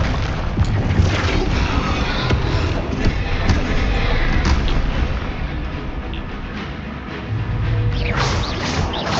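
Combat spells crash and boom in Hogwarts Legacy, the Confringo fire blast among them, in a dense, loud barrage of explosive impacts that continues throughout with little pause.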